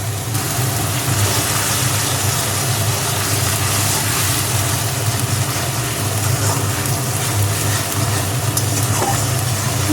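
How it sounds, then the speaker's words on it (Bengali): Spices, salt and turmeric frying and being stirred in hot oil for a thin fish curry with hog plum, a loud steady sizzle with scraping stirs, close and continuous with no talk. "মশলাটাকে এবার ভালো করে কষিয়ে নিতে হবে"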